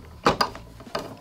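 Short ratcheting clicks as a self-tapping screw is driven into the foot of a TV stand for an LG UT80 43-inch television, two quick bursts close by, then another click.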